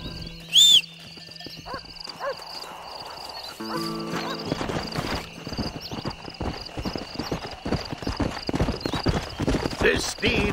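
Horse hooves clip-clopping in Red Dead Redemption (2010) on Xbox One X, a steady near trot over the second half, after a sharp whinny and game music and sound effects, with a voice speaking over it.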